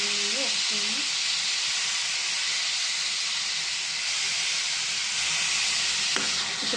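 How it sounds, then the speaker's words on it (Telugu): Onion paste with turmeric fries in hot oil, giving a loud, steady, close sizzle and hiss that fills the whole stretch, with a faint voice briefly underneath early on. "దీంట్లో ఆయిల్ వేడైంది కదండి దీంట్లో మనం పేస్ట్ చేసుకున్న ఉల్లిపాయ పేస్ట్ దీంట్లో కొంచెం పసుపు"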